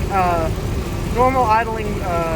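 A 1999 Jeep Grand Cherokee engine idles with a steady, low, close rumble, running continuously beneath a voice talking over it.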